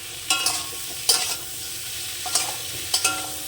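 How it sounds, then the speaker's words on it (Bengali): Singhi fish curry with turmeric is sautéed in a pan, with a spatula scraping and stirring in several distinct bursts over a light sizzle; near and clear, with no one speaking. "আবার একটু কষে নেব তরকারিটা"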